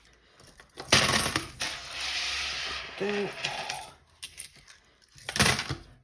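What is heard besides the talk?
coins dropped into a savings jar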